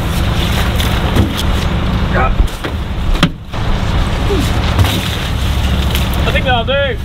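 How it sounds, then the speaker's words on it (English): Strong wind buffets a microphone outdoors on a cold farm, a steady loud broadband roar with gusting surges throughout, plus faint mechanical whines in the background. "it's hell of a windy today"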